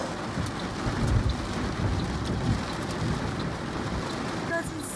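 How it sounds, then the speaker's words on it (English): Heavy rain hisses steadily during a thunderstorm, with low rumbling thunder woven through the downpour, loud and continuous throughout. "I don't think I've ever seen thunder and lightning come like that quickly after each other."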